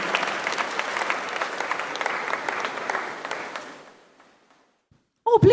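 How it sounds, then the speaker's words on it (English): Warm audience applause at a Ghana Securities Industry Association event welcomes Madam Marian M. Dancy to the stage, filling the room with crisp claps for about three seconds before fading to near silence, then a brief nearby thump or handling noise. "Please, with the rounds of applause, let's welcome Madam Marian M."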